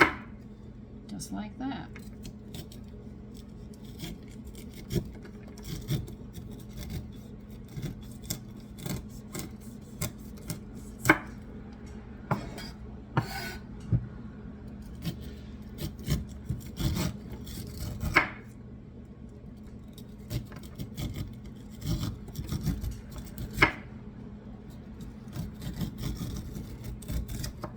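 A knife cuts kernels off ears of corn in repeated rasping, scraping strokes, close and fairly quiet, with brief talk in between.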